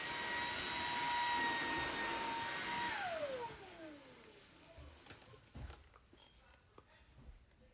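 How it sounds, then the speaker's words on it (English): A new cordless vacuum cleaner runs with a loud steady whine, then powers down in a falling pitch and leaves quiet handling noises and light clicks. "I do like this vacuum. I can already feel the suction."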